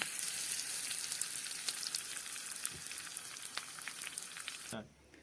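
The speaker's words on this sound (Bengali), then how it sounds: "এর জন্য বাটিতে তেল গরম করে নিয়েছি। দিয়ে দিচ্ছি অল্প পরিমাণ কালো সর্ষে, আর দিয়ে দেব কিছু কারি পাতা কুচানো।" Black mustard seeds and chopped curry leaves sizzle in hot oil in a small bowl, with dense crackling and popping close up that cuts off abruptly near the end.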